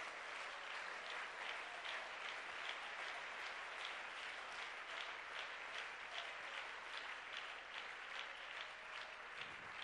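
A church congregation claps together in rhythm, with distinct repeated beats across a steady wash of hands, heard at a distance and fairly faint.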